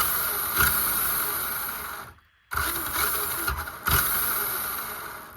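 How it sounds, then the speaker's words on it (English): Kyosho Tomahawk RC car engine running close by, a steady buzzing whine with a brief cutout near the middle before it picks up again, plus a couple of sharp revving bursts. "You know the engine works."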